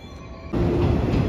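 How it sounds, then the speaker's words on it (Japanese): A JR West 115 series suburban electric train on the San'yō Line, a quiet lead-in followed by a sudden loud rush of the train passing close by with steady wheel and motor noise. "115系近郊型電車です。"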